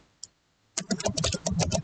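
A single click, then a quick burst of computer keyboard typing as text is entered, close and fairly soft.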